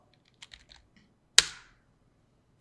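A few quick, light clicks on a computer keyboard as numbers are typed, followed by a single louder, sharper strike of the Enter key, close and in a quiet room.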